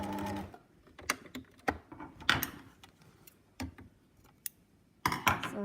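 A sewing machine stitching a welt seam with a seam guide, running in short bursts with clicking stops and handling noises between them, fairly quiet and close.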